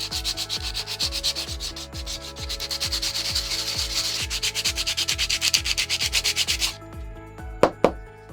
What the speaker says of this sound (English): I'm just gonna go ahead and rough them up just a little bit with some sandpaper